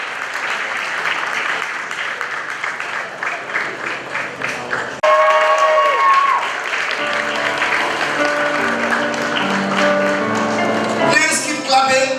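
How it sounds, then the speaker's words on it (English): Steady audience applause fills a graduation ceremony hall, dense and sustained throughout, with music tones rising over the clapping partway through. "Please, a round of applause for her."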